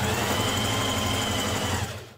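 Sewing machine stitching a stretch-fabric bomber jacket sleeve to the body, a steady, loud, continuous mechanical whir that runs throughout and then fades off at the end.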